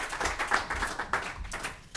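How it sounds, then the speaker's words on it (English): A small crowd gives a brief round of applause at a motocross press conference, a steady patter of many hands clapping up close, slightly uneven and tapering off near the end. "Let's give him a little round of applause, guys."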